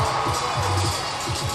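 Crowd noise fills a gymnastics arena during a women's college meet, Georgia against Auburn, with a steady wash of cheering and shouts that stays loud and continuous.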